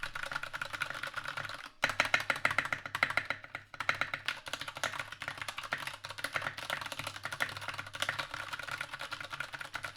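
Continuous typing on a computer keyboard at a dorm desk, a fast, steady stream of soft key clicks close to the mic with a brief pause near the start, no talk.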